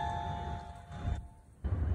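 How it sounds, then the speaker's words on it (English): A SECRUI wireless electronic doorbell chime rings with clear sustained tones, followed by a brief quiet gap and some low rumbling handling noise. "This is the SECRUI wireless doorbell."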